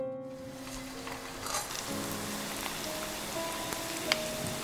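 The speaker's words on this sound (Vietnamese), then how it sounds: "Đợi cho dầu nóng thì mình nhẹ nhàng thả bánh vào chảo để chiên nè." Vietnamese sesame dough balls fry in hot oil, sizzling and crackling steadily, with small pops rising over the frying hiss; no voices.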